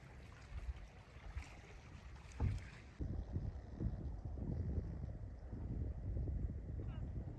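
A boat sits on the water at an Arctic Ocean shore, heard as faint, low rumbling wind and water washing that swells slightly partway through, with no clear single event.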